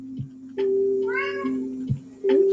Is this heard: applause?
no